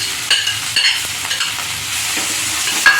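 Boiled potatoes are stir-fried in a pan, with a continuous close sizzle broken by irregular scraping and tapping stir strokes.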